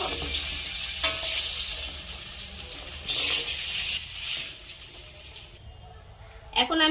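Cauliflower florets frying in mustard oil in a pan for a vegetarian khichuri meal, a steady broad sizzle running throughout with brief louder bursts, fading near the end before a sharp clatter.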